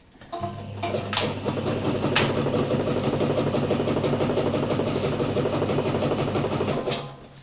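A sewing machine runs steadily for about seven seconds, stitching fabric for a stuff sack, a continuous close whirring hum with a fine rapid needle rhythm, starting and stopping cleanly with no talk.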